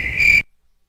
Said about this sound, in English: No claps, just crickets.